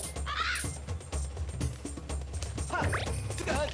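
Crows caw repeatedly in Zelda Skyward Sword, with several harsh calls spread out over game background sounds, fairly close and moderately loud.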